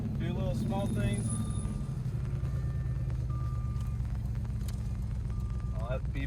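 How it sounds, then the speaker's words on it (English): A car's seatbelt warning chime beeps in short repeated bursts over a loud, rough engine rumble from a Jaguar S-Type R with a faulty exhaust, all close inside the cabin. "that beeping's just because Murph doesn't have a seatbelt on."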